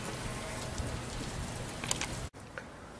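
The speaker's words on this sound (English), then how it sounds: "As you can see, it's still raining." Steady rain falls outdoors in a dense patter, with a few louder drips near the end and a brief dropout partway through.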